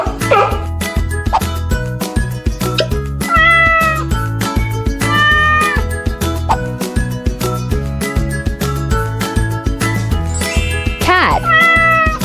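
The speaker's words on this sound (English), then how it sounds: "Cat." A cat meows several times, with clear wavering cries in the middle and again near the end, heard over a bouncy background music track.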